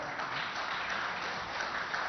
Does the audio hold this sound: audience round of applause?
yes